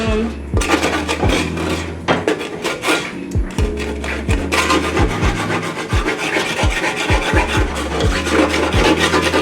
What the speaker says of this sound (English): all of these crumbs in here, I'm just going to kind of grate them